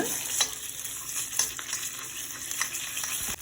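Tomato paste frying in hot oil in a pan for spicy chilli garlic shrimp noodles, giving a steady close sizzle with a few soft stirring scrapes and no talking.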